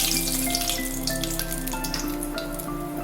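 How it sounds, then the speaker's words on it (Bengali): Cloves and cinnamon sizzle steadily in hot oil for tempering, a dense, even crackle and spatter that runs throughout with no voices. "এইবারে আমি ফোড়ন দিচ্ছি। আগেই দেখিয়েছি, লবঙ্গ আর দারচিনি আমি ফোড়নে দিলাম।"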